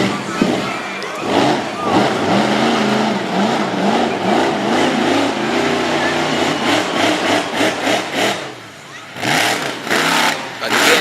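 A monster truck running a dirt track at a Woodstock, Virginia event, loud engine revving and rising and falling through the corners, with an announcer talking over it.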